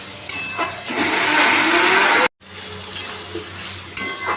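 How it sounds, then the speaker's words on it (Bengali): Boiled potatoes with spices and tomato sizzle loudly in a pan as they are sautéed for ghugni, a dense frying hiss with stirring; it cuts out briefly, then continues quieter with occasional clinks. "আলুটাকে এখন ভালো করে কষাবো"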